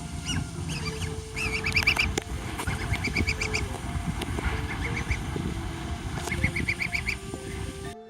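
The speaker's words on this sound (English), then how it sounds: "the duck recognized him from a distance and quickly waddled over." Domestic duck giving repeated honking quacks in short bursts, with rustling and flapping sounds around it, fairly close and fairly loud against a steady background hum.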